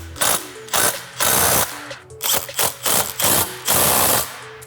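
A ratchet tightens a nut over a flat washer and lock washer onto the bolt of a gutter machine's mounting bracket, giving several close, loud bursts of rapid clicking separated by short pauses.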